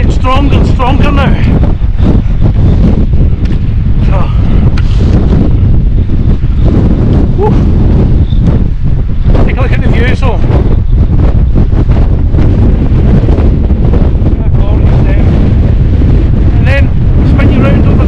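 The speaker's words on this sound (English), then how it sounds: "these winds are getting stronger and stronger now" Strong Storm Babet winds buffeting a wild camp with a Hilleberg Nallo 2 tent at Red Tarn, a loud, relentless roar of gusts battering the microphone throughout, with a voice partly buried beneath it.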